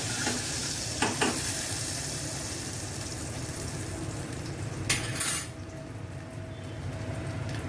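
Finely chopped garlic sizzles steadily in hot oil for a dal tadka, a continuous frying hiss with a few clinks of a spoon against the pan and a brief louder burst partway through.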